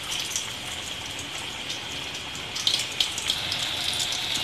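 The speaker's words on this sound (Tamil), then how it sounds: "இப்போ வந்து எண்ணெய் ஊற்றிக்கிறேன் கொஞ்சமாக" Oil goes into a heated pan for frying plantain, giving a steady soft hiss and patter like light rain, with a few small crackles near the end and no talk.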